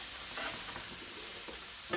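A soft, continuous sizzle of a frittata frying in a non-stick Teflon pan on an electric stove, faint and steady with slight crackles, no voices.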